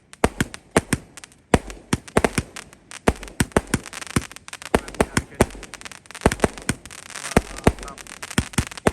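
Roman candle fireworks, a 60-shot batch lit for the Lebaran 2022 celebration, fire a rapid, irregular series of sharp pops and bangs, dozens of loud bursts crowding close together throughout.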